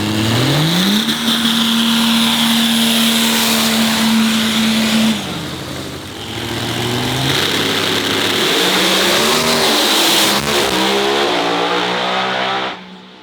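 A drag race car launches down the strip at the No Mercy 15 drag racing event, its engine revving loudly and rising in pitch before roaring steadily close by for over ten seconds, then cutting off abruptly.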